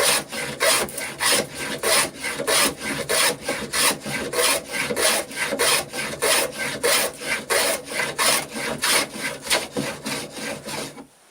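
A Stanley #78 hand plane with a fluted modification cuts wood shavings in a fast, steady series of rasping strokes, roughly two per second, loud and close with no talking.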